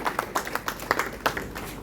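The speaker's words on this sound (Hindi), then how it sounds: "तो एक बार जोरदार ताली इनके लिए।" Audience clapping at a Hindi official-language conference and national seminar in Patna, a steady patter of many hands with scattered louder claps, moderately distant and fairly faint.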